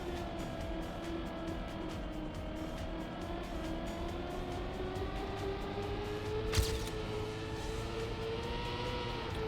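Car engine in a racing video game on an endurance map, a steady, loud drone whose pitch climbs gradually as it drifts through a section, with one sharp click near the end and no talking.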